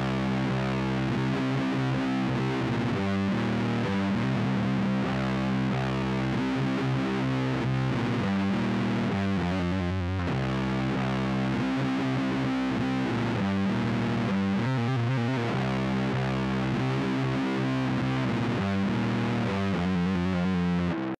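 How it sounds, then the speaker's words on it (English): A distorted electric guitar in C standard tuning plays a heavy, repeating doom-metal riff, decorated with quick trills, loud and sustained throughout with no talking. "You're going to play the same riff except with some trills"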